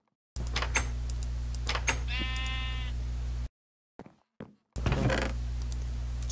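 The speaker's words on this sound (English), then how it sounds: "Sheep is trying to get in," A sheep bleats in Minecraft over a steady low electronic hum, with a few thumps before and after, then the sound cuts out briefly and resumes.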